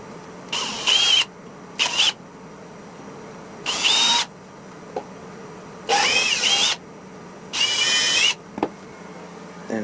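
A power drill bores holes into a wooden desk in five short bursts of high whine, each about half a second to a second long, separated by brief quiet pauses.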